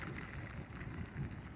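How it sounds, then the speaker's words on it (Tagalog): Heavy rain pours down during Typhoon Basyang, a dense, steady roar of downpour that stays close and loud without a break, with no voices over it. "Malakas na yung ulan."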